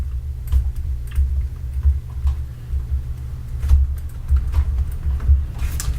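Computer keyboard keys tapped in short irregular bursts while typing notes in the Covert Action video game, close and clear over a steady low hum.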